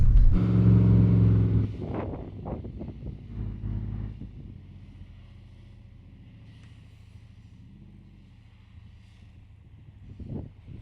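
Wind buffets the microphone outdoors beside a car at Coffin Bay National Park, a loud rumbling roar for the first seconds that eases into a steadier, quieter low rush with scattered gusty bumps.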